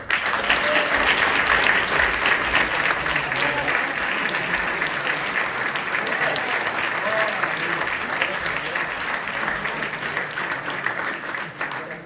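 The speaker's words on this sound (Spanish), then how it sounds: "Un aplauso grande para Kevin, Jesslyn y Dayana" An audience claps in sustained, dense applause, loud and steady for the whole stretch and tapering only slightly toward the end, with no talk standing out above it.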